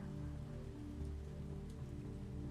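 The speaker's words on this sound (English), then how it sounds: "the night rain arrives right on schedule" Night rain falls steadily in the game Punishing: Gray Raven, a dense, even patter of drops on hard surfaces that holds at a constant moderate level with no voices.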